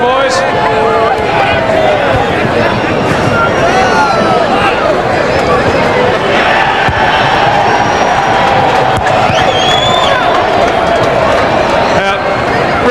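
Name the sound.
football crowd cheering at AFL match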